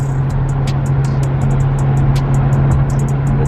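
An Infiniti Q50 with a loud exhaust idles with a deep, steady rumble and droning exhaust tone in sport mode, close and loud, with light ticking clicks over the top.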